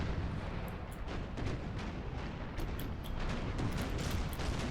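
Naval cannon fire from sailing warships in Empire: Total War, a dense, distant rumble of broadside booms rolling continuously under a constant battle ambience.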